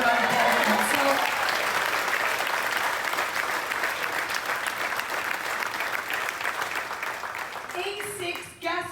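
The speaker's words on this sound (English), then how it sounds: "That was a round of applause" A cruise-ship audience at a salute-to-heroes event claps for a veteran of Navy and Coast Guard Auxiliary service, sustained dense applause from a crowd that gradually tapers, with brief voices at the start and end.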